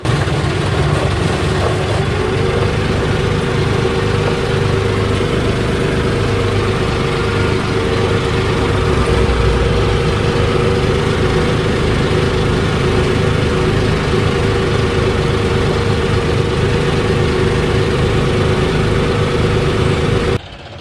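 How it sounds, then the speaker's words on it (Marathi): A tractor engine rumbles loudly and steadily for about twenty seconds while descending a steep slope, a heavy low drone that barely changes before cutting off abruptly at the end. "बघू शकताय घाटाला ट्रॅक्टर ब्रेक मारून पण उभं राहत नाही"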